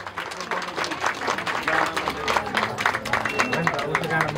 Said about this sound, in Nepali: जोरदार ताली बजाउँदै जय होस्।